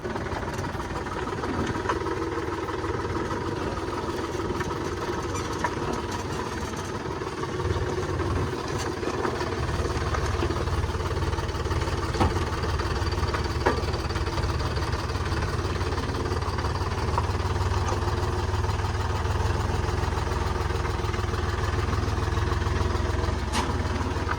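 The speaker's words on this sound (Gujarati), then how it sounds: "રિક્ષા બગડી ગઈ છે એટલે ટ્રેક્ટર સાથે દોરડું બાંધીને ખેંચવામાં આવી રહી છે" A tractor tows a broken-down auto rickshaw on a rope, its engine chugging and knocking steadily up close for a long stretch and growing heavier partway through, with no talk over it.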